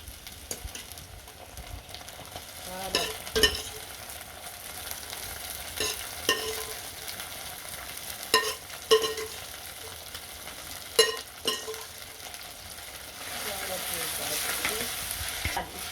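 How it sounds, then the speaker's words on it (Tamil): Plantain sautés in a pan for a lunch with seafood dishes, giving a soft, continuous sizzle broken by several sharp stirring scrapes and clinks. "வாழை வதங்க போட்டுட்டோம். வதங்குது, மூடி விடுவோம்."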